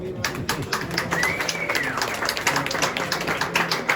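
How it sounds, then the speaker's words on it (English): An audience applauds a tour guide with dense, steady clapping throughout at the end of a Zaanse Schans windmills tour, and a voice is briefly heard underneath. "Big applause for Tim de Miller."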